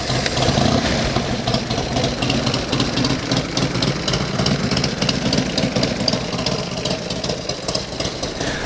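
A Buell X1 Lightning streetfighter motorcycle with race exhaust and race ECU idles just after startup, a steady, loud, lumpy engine rumble with a fast regular pulse running throughout.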